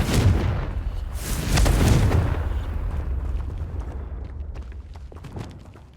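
A Confringo fire spell in Hogwarts Legacy bursts into a loud, deep explosive boom with rumbling low end, swelling again about a second later, then decaying into crackling debris and fading fire over several seconds, with no voice.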